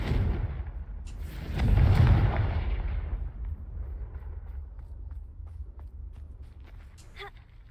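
A Confringo blasting curse in the Hogwarts Legacy video game bursts into a rumbling blast that swells and fades, then leaves scattered small crackles and debris sounds over a low background.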